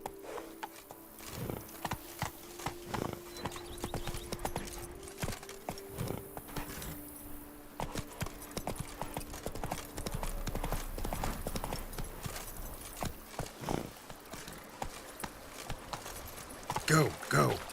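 Hooves of the horse Roach clip-clop at a steady trot in The Witcher 3, a regular rhythmic clatter over game ambience and music, with someone talking at times.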